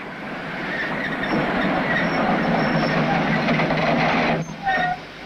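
A train crossing the Turkish-Soviet frontier in 1964 rolls past with loud, steady clickety-clack wheel noise and a brief squeal near the end.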